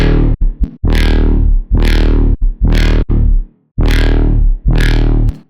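Resampled wub bass with heavy distortion and the reverb turned up, played as five or six loud, sustained growling notes with sweeping tone, separated by brief sharp cuts.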